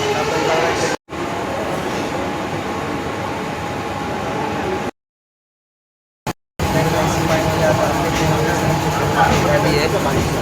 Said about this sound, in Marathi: आपल्या ट्रेनला पण तिकडे सिग्नल मिळाला आहे.